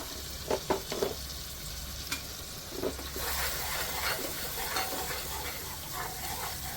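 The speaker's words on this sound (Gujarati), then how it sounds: "એની અંદર આપણે નાખી દઈશું અદરક, 2 ચમચી લાલ મરચું અને 1 ચમચી ધાણા ભૂકી." Ginger, red chili and coriander powder fry with tomatoes in a pot for Delhi-style chole. A few clinks and stirring knocks come first, then a steady, soft sizzle runs alone to the end.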